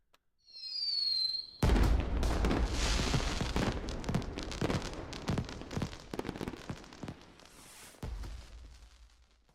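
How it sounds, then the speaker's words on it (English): A fireworks sound effect opens with a rising whistle, then a loud burst followed by a dense run of crackling pops and bangs that fades out after several seconds. "I set off the fireworks"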